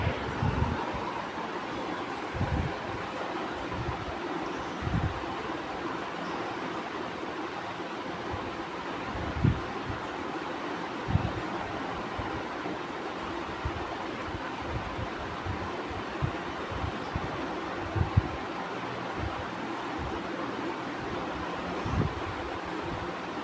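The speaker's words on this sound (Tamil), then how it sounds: "வெயில், இவ்வளோ வெயில்லையும் இப்படி ஒரு காற்று" Steady outdoor wind rushes continuously through garden plants on a hot sunny day, with occasional low gusts and buffeting bumps against the microphone, and no voices.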